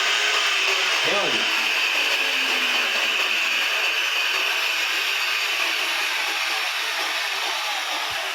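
An angle grinder is switched on and off with the thumb: a loud, steady high-pitched motor whine fills nearly the whole stretch, with a short rising whir near the start and a faint click toward the end.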